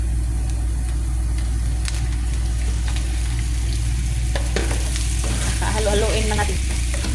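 Shrimp coated with turmeric and pepper frying in a pan, a steady close sizzle throughout with scraping stir sounds and crackles picking up near the end, a low hum underneath.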